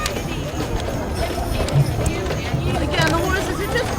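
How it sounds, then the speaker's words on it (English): Horses' hooves clip-clop steadily on pavement in a children's parade, heard under a busy outdoor crowd hubbub with talking nearby. "the horses are just gorgeous"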